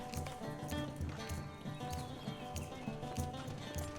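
A horse in the online game Lord of the Rings Online clip-clops in a steady rhythmic gait after its rider dismounts, hooves close and clear over faint background tones.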